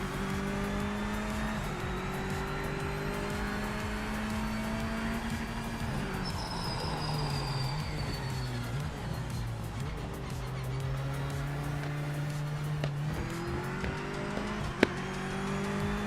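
A race car in the Project Motor Racing video game drones steadily near and loud, its engine pitch stepping and sagging as it downshifts to first gear, with a faint tire note.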